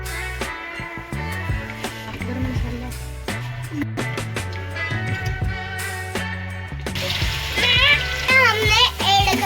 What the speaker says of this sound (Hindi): अब हमने तेल डाला है। अब हम जीरा